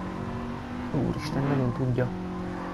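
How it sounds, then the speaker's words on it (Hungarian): A Honda Integra Type R DC2's naturally aspirated, high-revving petrol engine holds a steady, close, tonal drone. A voice briefly exclaims over it partway through. "ezt a magas fordulatú szívó benzinhangot"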